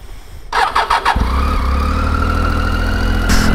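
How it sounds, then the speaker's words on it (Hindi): A motorbike engine revs up on a high-altitude mountain pass ride on the Sach Pass route, with a few short throttle blips before settling into a loud, steady close-up drone, a higher whine rising near the end. "देखो कितना ज़्यादा शोर मच गया बाइक की आवाज़ से।"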